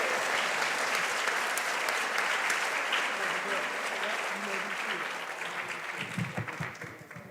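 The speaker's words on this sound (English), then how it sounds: "Let's give them a round of applause to our Kalamazoo County Excellence in Education winners." A high school academic awards audience in Kalamazoo County applauds its Excellence in Education winners with loud, full, sustained clapping that gradually tapers off as a voice begins speaking.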